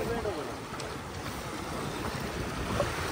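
Stream water flows steadily through a forest, a continuous broadband rush close to the microphone with some wind noise mixed in, running for the whole stretch without pause.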